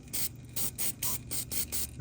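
Repeated short bursts of silicone aerosol spray hissing onto an O-ring during a classic Mercedes repair, about seven quick sprays in an even rhythm, close up.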